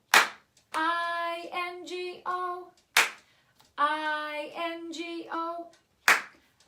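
Sharp hand claps burst out alone between sung phrases of a children's farmer-and-dog spelling song, a few quick claps at a time, loud and close, as a singer's voice carries the melody.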